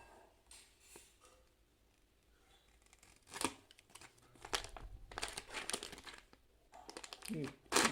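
Vacuum-sealed HyperX keycap packaging being opened: sharp plastic crinkling and tearing in irregular bursts that grow louder and denser toward the end, close up, with no talking.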